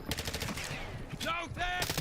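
Rapid automatic gunfire in the Black Ops 6 video game, dense bursts of shots filling the clip with a loud, continuous crackle, with brief game voice callouts mixed in.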